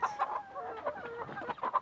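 Chickens clucking and murmuring nearby, a steady run of short throaty calls with a few sharper squawks.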